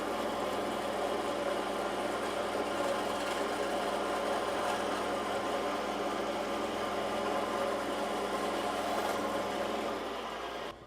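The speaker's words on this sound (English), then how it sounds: "I'm going to head over to the bandsaw, which is way over there, and I'm just going to saw this." Bandsaw cutting wood for a Shaker pull, a steady continuous whirring drone with a rough broadband hiss, running unbroken for about eleven seconds with no talk.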